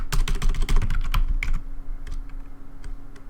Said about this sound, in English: Dude, I'm literally typing Stan Red Velvet.